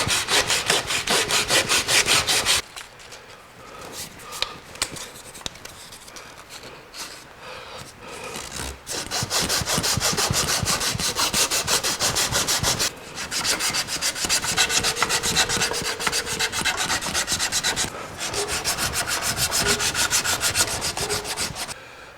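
A wooden twisted hollow form being sanded by hand, with steady, close scratchy rubbing strokes broken by short pauses and changes in pressure.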